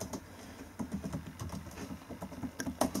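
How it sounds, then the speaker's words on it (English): Someone types a password on a computer keyboard, producing a steady stream of close, irregular key clicks and taps with no voices. "I just need to type the password."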